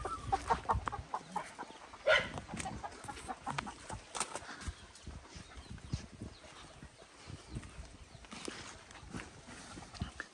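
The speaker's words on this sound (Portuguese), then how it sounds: "Aqui as galinhas aqui, gente." Chickens cluck in scattered, intermittent bursts at moderate distance around a rural yard, mixed with light rustling and shuffling noises.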